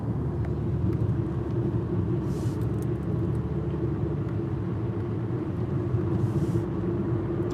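Steady low rumble of a car's engine and tires driving along a town road past houses, continuous and close, with no talking.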